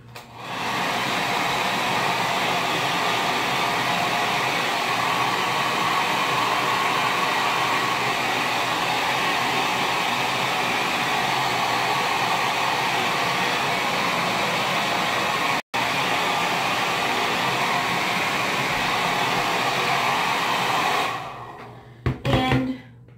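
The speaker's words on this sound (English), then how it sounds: "you can blow dry it to help you get the shape" A handheld hair dryer blows hair steadily for about twenty seconds, a loud, continuous whooshing roar up close. It is briefly interrupted once and then switched off near the end.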